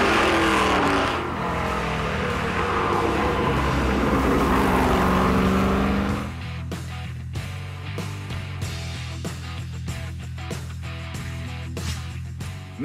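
Vintage race cars, including 1970s Challengers and IMSA GT and production cars, racing at Mont Tremblant; a loud engine roar sweeps past, then more distant engines drone and rise over background sound with no talk.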